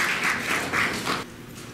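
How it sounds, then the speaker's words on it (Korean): Audience applause at a Korean literary award ceremony, a dense burst of clapping from many hands in a hall that fades out toward the end. "큰 박수 주세요."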